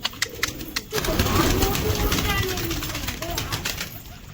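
Pet pigeons cooing with a burst of wing flapping and feather rustle, close and busy, with a person talking over the birds.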